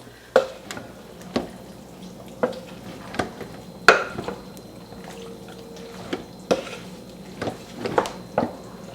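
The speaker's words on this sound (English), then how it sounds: "I'm probably going to get one of my bigger spoons to mix all of this together" A big spoon stirs a pot of baked beans seasoned with salt and pepper, giving a series of distinct scraping knocks and clinks against the pot roughly every half second to second, close and fairly quiet with no talk.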